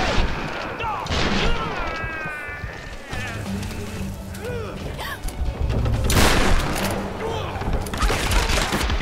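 Gunfire and explosions in the video game Tomb Raider during a gondola getaway: bursts of shots and heavy booms mixed with game effects, while a player talks and exclaims over them.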